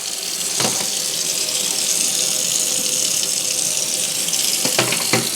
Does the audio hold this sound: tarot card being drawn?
no